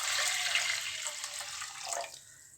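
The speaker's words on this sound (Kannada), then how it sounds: "ಸೊ ನೋಡಿ 1 ಚಮಚಷ್ಟು ನೀರು ಹಾಕ್ಕೊತಾ ಇದ್ದೀನಿ." About a spoonful of water poured into a pressure cooker on the stove, a steady close splashing trickle running for about two seconds before tapering off, with no talk.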